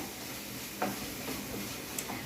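Tomato ketchup being stirred into a homemade pizza sauce for bhakhri pizza: soft, close scraping and swishing strokes with a faint sizzle beneath, quiet and steady with a couple of slightly sharper scrapes.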